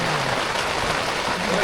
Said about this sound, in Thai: มื้อนี้อากาศฝนตก